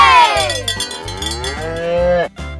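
A cow moos in a long, drawn-out call over a bouncy musical backing with a steady beat.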